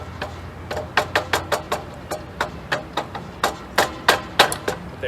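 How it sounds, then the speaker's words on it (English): A rubber hammer taps repeatedly on a 1953 Chevrolet steering box, about fifteen dull, close knocks in an uneven rhythm with brief gaps, no talking. "I'm going to tap it a little bit with this rubber hammer."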